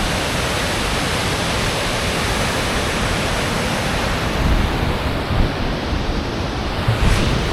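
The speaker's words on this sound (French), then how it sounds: "Je crois qu'on a l'objectif en vue, la petite cascade." A small waterfall in Iceland pours in a steady broadband rush, close and fairly loud, with light wind buffeting the microphone now and then.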